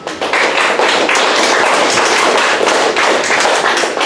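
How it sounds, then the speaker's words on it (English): A reunion audience gives a loud, sustained round of applause, dense overlapping claps close by that fill the whole stretch without a break. "Give another big round of applause."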